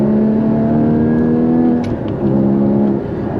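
Porsche 981 Cayman GT4 in sport mode, heard from inside with its engine droning loudly and the pitch swinging as the throttle is blipped during downshifts, without talk.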